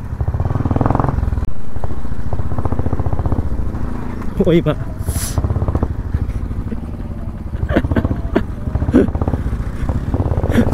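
A motorcycle with slipping brakes rumbles loudly and steadily up close while it is ridden, with a few clattering knocks and rattles, and someone talks and exclaims over the engine.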